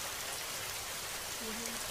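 Heavy stormy rain in a Hindi cartoon pours steadily for the whole stretch, a dense, loud, unbroken hiss with no pauses.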